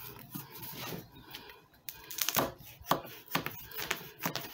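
Knife slicing birch polypore mushroom into pieces on a board, a series of soft, crisp chopping cuts in an irregular rhythm, close and fairly quiet.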